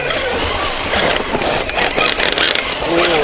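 Scale RC crawler truck working along a trail, its body rubbing with a crunchy, scraping grind over a steady whining motor, loud and close with no talk.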